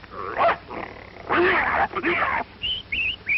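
A man imitates a dog fight with his voice, producing snarls, growls, yelps and whining barks in rapid, uneven bursts, close and loud, closing on high yips.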